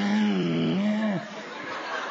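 A voice imitates an impatient growl, a short throaty rumbling grunt with a falling pitch, followed by a brief breathy tail, heard up close during a stand-up comedy routine.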